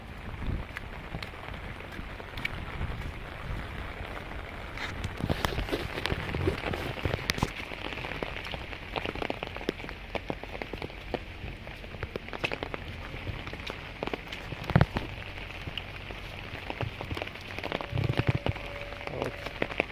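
Steady monsoon rain falling outdoors near fish ponds, a dense continuous patter on surfaces with occasional louder drops, unbroken for the whole stretch.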